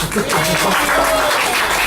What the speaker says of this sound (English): Now give me a round of applause